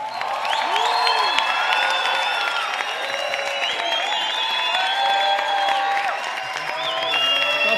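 A large crowd at ExpoFavela applauds and cheers loudly, with whoops and shouted voices rising over continuous clapping.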